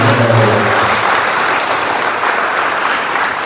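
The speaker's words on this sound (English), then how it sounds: "So if we can just give all of us a round of applause for achieving that goal." A live audience at a scholarship and awards ceremony for a small grassroots athletes' foundation claps in a sustained, steady round of applause, dense and even throughout, with no talk over it.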